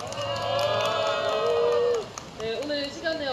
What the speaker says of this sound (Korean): 큰 박수와 함성으로 기자회견 시작하도록 하겠습니다